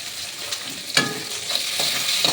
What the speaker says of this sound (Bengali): এবার দিয়ে দেবো ক্যাপসিকামটা একটু ভাজা